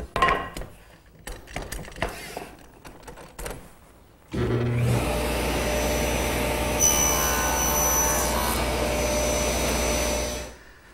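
Table saw cutting tenon cheeks with a tenoning jig riding in the miter slot, for a paymaster's desk: after some clattering handling, the motor starts with a loud steady roar that holds for about six seconds, then stops.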